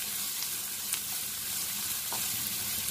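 Sliced bitter gourd fries with onion and masala in a pan, producing an even, continuous sizzle up close with faint stirring ticks.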